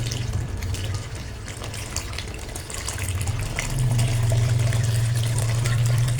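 Liquid streams steadily, like coconut milk poured through a strainer for a steamed layer cake batter, a continuous close splashing that swells louder and fuller toward the end, with no talking.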